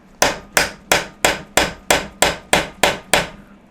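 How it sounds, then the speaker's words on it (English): A rubber hammer strikes a screwdriver held against the tab of a nut on a classic Fiat 500/126 engine, giving ten evenly spaced, sharp taps close up with no talking. "I'm just going to get my rubber hammer and screwdriver"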